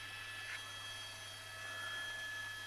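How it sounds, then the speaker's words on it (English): Police helicopters circling overhead during a car chase, a steady, distant rotor drone that hangs in the background with a slight swell partway through, no voices over it. "So there's 2 helicopters out."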